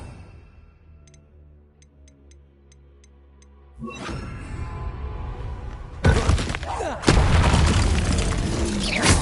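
A Revelio reveal spell cast in Hogwarts Legacy on PS5: a faint ticking shimmer, then a rising swell that breaks into loud crashing, shattering bursts building over several seconds, with some voice underneath.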